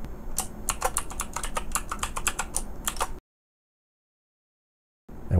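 Rapid, steady keystrokes on a computer keyboard as an administrator password is entered, close and fairly quiet, lasting about three seconds before cutting to silence, then a short burst of sound at the very end.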